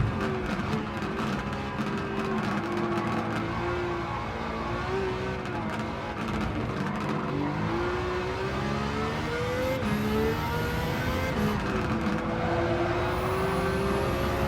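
A high-horsepower race car on poor tires in Gran Turismo 7 drones steadily at high revs, its engine pitch rising and falling through gear changes in a continuous loud run with no talking.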